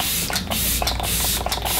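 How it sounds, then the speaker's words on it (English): Kat Von D setting spray misted onto a face in three short, close hissing bursts spaced about half a second apart, with no talking. "So I'm gonna spray this ish all over my face."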